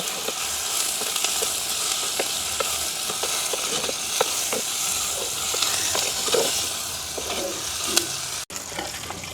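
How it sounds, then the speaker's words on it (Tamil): Onion and green chilli sautéing in a pan in a village kitchen, with a loud, dense hiss and crackle close by, scattered spatter pops, and a brief cut near the end. "வெங்காயம் பச்சை மிளகாய் எல்லாம் எங்களுக்கு வதங்கிட்டுது"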